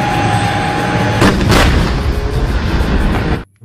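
Loud, dense booming gunfire and rumbling blasts from a toy tank's sound effect fill the clip continuously, like a battle sound effect, then cut off abruptly.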